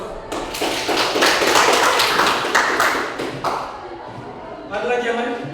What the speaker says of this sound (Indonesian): Coba berikan aplaus.